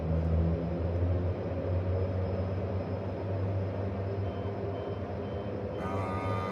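Dash 8 turboprop engines running as the throttles are pushed up, a steady droning hum with sustained tones, fairly faint and heard alone.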